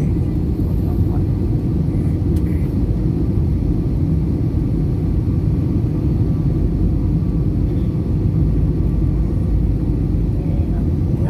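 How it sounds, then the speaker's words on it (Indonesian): Passenger airliner cabin during a flight from Makassar to Palu over the sea near Palu, a loud, constant engine and air roar that holds steady throughout with no voices. "ini kita sedang terbang di atas laut di Palu"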